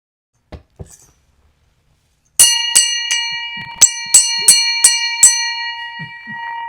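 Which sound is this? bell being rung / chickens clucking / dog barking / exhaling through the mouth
bell being rung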